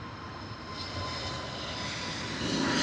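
A British Airways Airbus A321neo departing Heathrow gives off a fairly faint, distant engine roar that builds gradually over a few seconds.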